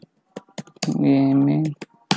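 Laptop keyboard typing during a search, a scatter of quick, crisp key clicks spaced irregularly, with a short voiced sound in the middle.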